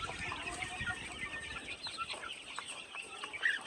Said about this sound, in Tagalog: napakagandang pagmasdan yung mga sisiw natin. Healthy sila.